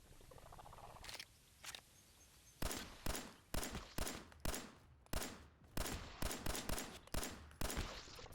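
Gunfire in Fallout 4, a few scattered shots followed by a fast run of sharp, evenly spaced cracks, each ending in a short decaying tail, heard clearly with no talk.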